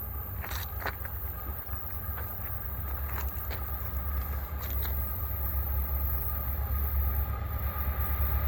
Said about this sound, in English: Alright, we got a coal train